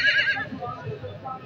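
An 18-month-old horse offered for sale at a Punjab horse market whinnies loudly and close by, a bright neigh that fades into lower snorting and hoof clip-clops. People talk softly in the background.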